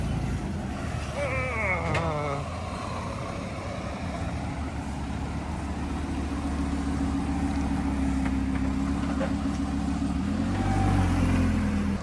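A Lamborghini rolls past at a car dealership, its engine a steady low rumble that swells slightly toward the end, with brief voices and other noises scattered over it.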